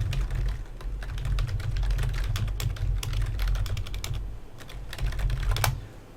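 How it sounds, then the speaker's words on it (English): Rapid, continuous typing on a computer keyboard, close and clear over a low steady hum, keystrokes clicking in uneven bursts with no talking. "Sorry, I had to type a few things real quick"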